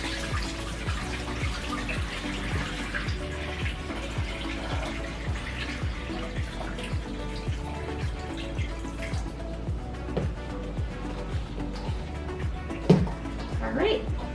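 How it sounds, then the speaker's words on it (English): Rinse water from washing sorrel is dumped into a kitchen sink, a steady splashing wash of liquid running throughout with a louder gush near the end. "And now I'm just dumping the water off in the sink."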